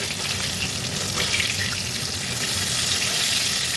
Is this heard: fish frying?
yes